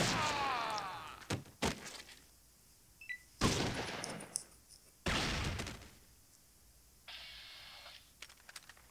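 Gunfire in the Fallout video game, with several sharp, loud shots separated by pauses, plus a few softer clicks and thumps between them.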